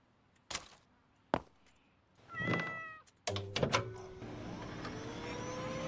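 A cat meows several times in a drawn-out, rising and falling call, close by, between sharp knocks and clicks, followed by a low steady hum.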